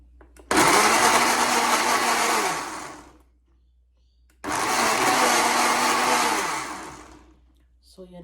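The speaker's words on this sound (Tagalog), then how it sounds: "I-blend na natin guys ang ating mangga." A kitchen blender pureeing fresh mango runs in two loud, steady whirring bursts of about two and a half seconds each, separated by a short pause, close up with no talking.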